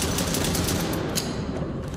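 Rapid gunfire fired from the hip in a video game, a dense unbroken rattle of shots that stays loud and steady throughout.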